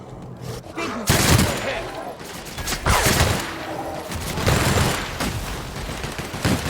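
Gunfire from the video game The Outer Worlds: a rapid run of loud, repeated shots in bursts over nearly seven seconds, dense and continuous with little pause between volleys.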